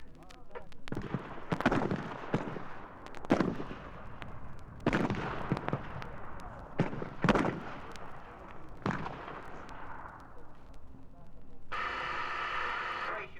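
M16 rifle shots on a military firing range, heard as sharp, separate cracks at irregular intervals amid a background of voices, with a burst of noise near the end, all with an old, thin recorded tone.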